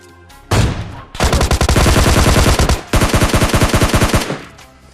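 Loud automatic gunfire from a PUBG Mobile Lite match, with a long sustained burst of rapid shots, a short pause, then a second rapid burst, all close and with no talk over it.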